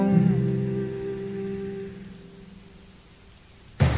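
Steady rain pattering on a surface runs under a looping pop song, the music's sustained tones fading toward the end while the rain stays continuous, then a sudden loud burst of broadband noise at the very end.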